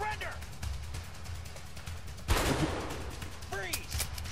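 Gunfire in the co-op prison-escape video game A Way Out: a single sharp, loud shot mid-clip with a brief burst of noise trailing off, set among game sounds and ongoing talk.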